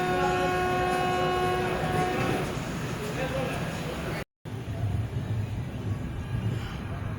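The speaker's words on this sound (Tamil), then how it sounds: "So Tambaram Karaikal Kamban express." The Tambaram–Karaikal Kamban Express rolls past at a station, its horn blaring with sustained tones over rumbling wheels, then a brief dropout before the carriages keep clattering by; a voice speaks over it.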